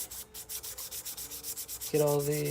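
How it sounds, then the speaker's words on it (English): Rhythmic back-and-forth hand sanding inside grooves in cedar wood, quick and steady strokes up close, followed by a brief sustained hum at the end. "I'm just sanding the inside of these grooves"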